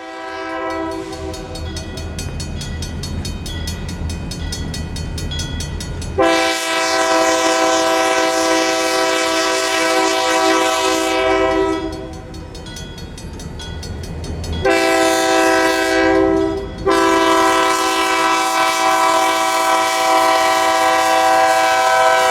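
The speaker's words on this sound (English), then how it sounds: "our train passes over Highway 135 just before reaching the interchange" A train rumbles past on a bridge over a highway with loud, sustained horn blasts in several long bursts, close by and dominating the scene.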